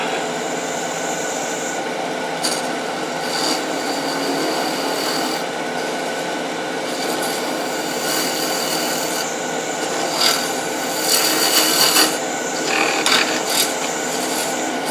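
A round nose scraper works against a wooden acorn box spinning on a lathe, giving a steady, loud rasping scrape that runs without a break and swells in places.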